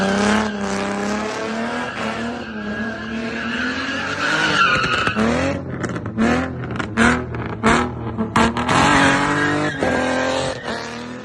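Cars rev hard and skid through stunts at a Bay Area street sideshow. Loud, sustained tire squeal and engine roar surge and break off repeatedly, with no talking.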